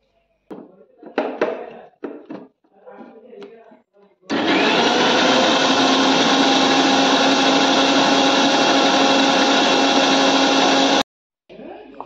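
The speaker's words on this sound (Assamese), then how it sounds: "এতিয়া মই এইখিনি মিক্সিত মাৰি ল'ম" A mixer grinder blends boiled, softened apple into baby food, a loud, steady motor whine running unbroken for about seven seconds before cutting off abruptly, preceded by a few soft handling knocks and clatters.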